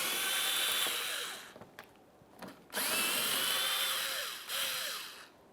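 A power drill or impact tool spins out 8mm headed bolts from the front inner fender liner of a 2014-2018 Mazda 3, two loud whirring bursts with a pause between them and a shorter burst at the end, close up, with no talking.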